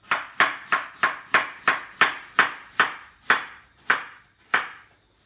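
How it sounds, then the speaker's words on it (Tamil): A knife chops potato into small pieces on a cutting board, giving about a dozen sharp, evenly spaced knocks close by that slow slightly toward the end, with no talking. "நல்லா தூளாக இந்த மாதிரி நீட்டாக கட் பண்ணிவிட்டு அப்புறம் பொடி பொடியாக கட் பண்ணிடுங்க"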